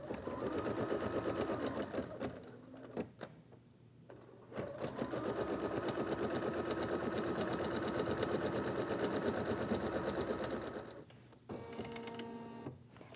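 An embroidery machine stitches a placement line on stabilizer in the hoop, its steady rapid mechanical whir running loud and close with brief pauses and a change in pitch near the end.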